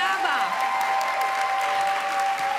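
Continuous applause fills the hall at an award ceremony for a national vocal competition as a prize winner is announced, with a sustained ringing tone audible over the clapping throughout.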